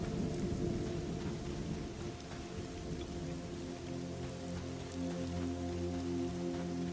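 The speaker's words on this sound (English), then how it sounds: "I do like the rain effect." Steady rain pours in the fantasy online game Monsters & Memories, seen from a high vantage point, with a low rolling thunder-like rumble and faint sustained tones beneath the constant hiss.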